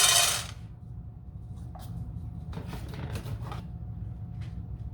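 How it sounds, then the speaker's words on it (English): Dry dog kibble, Bully Max food mixed with regular dog food, pours in a loud rattling rush, then scatters into quieter intermittent rustling and clinking as it is stirred. "here's another half cup of the Bully Max food mixed in with his original dog food"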